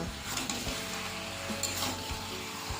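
Chicken kosha cooks in its own released fat with no added oil, giving a steady, close sizzle with the occasional scrape or stir in the pan throughout.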